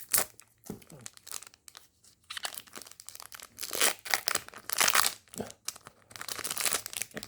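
A One Piece trading card booster pack foil is torn and crinkled open up close, with bursts of sharp tearing and crackling wrapper noise coming in uneven waves and brief pauses, no talking.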